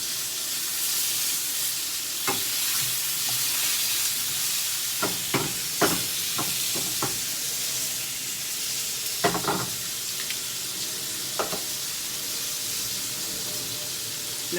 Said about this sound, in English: I actually happen to have a ceramic pan here, which I'm using for the first time in cooking a steak